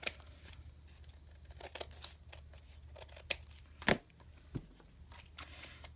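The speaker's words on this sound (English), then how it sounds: "I'm going to cut this off." Scissors snipping through paper in a few quiet close cuts with crisp rustling in between, the sharpest snips clustered near the middle.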